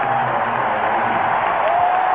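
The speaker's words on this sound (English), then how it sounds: "The crowd starting to get into this game for the first time." A basketball arena crowd at a 1988 playoff game between the Utah Jazz and the Los Angeles Lakers roars steadily and loudly, a dense sustained wash of cheering with no distinct breaks.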